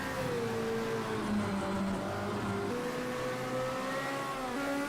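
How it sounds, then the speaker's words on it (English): A small Fiat X19 race car producing around 320 horsepower climbs a mountain hill-climb course, its engine howling steadily at a distance as it accelerates through the gears. "In the Fiat X19."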